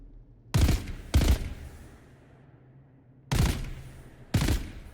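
Gunfire rings out in the Dune: Awakening video game as four sharp bursts, two close together at the start and two more later, each decaying into a faint background hum.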